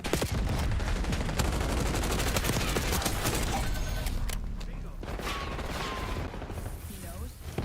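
Sustained bursts of automatic gunfire in the shooter Black Ops 6, loud and dense throughout with rapid cracks and some mechanical clatter, a voice speaking underneath.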